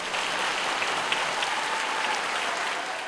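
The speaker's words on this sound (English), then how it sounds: "Give Peter a round of applause, please." A large audience at a curry restaurant awards ceremony claps steadily for about three seconds, a dense, even wash of applause that holds its level from start to finish.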